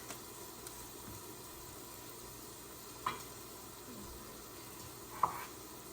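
Butter melts in a warm cast iron skillet with a soft, steady sizzling hiss, faint and even throughout, broken by a couple of small pops or clicks.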